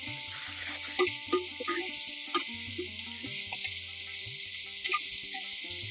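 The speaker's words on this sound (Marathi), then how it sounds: "आता आपल्याला ह्याच्यामध्ये मूग आणि शेंग व्यवस्थित मिक्स करायचे। हे छान परतायचे तेलात।" Mung beans and green beans sauté in oil for a sattvic no-onion, no-garlic dish, producing a continuous sizzle with stirring scrapes while tonal background music plays.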